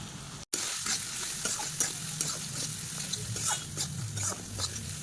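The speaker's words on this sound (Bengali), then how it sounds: "লঙ্কা বাটা আর জিরে বাটা দিয়ে ভালো করে নেড়ে চেড়ে নেব" A spoon stirs spice paste of ginger, garlic, chili and cumin frying in a pan with salt, turmeric and coriander powder, steady sizzling with repeated scraping strokes, close and alone.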